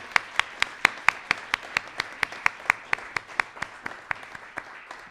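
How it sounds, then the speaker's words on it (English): A single person or small group claps in an even, steady rhythm of about twenty distinct claps at a community awards event, fairly quiet and isolated with no talk. "Let's give them another round of applause."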